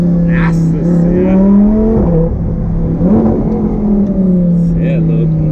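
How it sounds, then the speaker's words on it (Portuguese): A new low sports car's engine roars close by with throaty revs that rise and dip, while people talk over it. "Quem tava com saudade de ouvir esse ronco aqui no canal?"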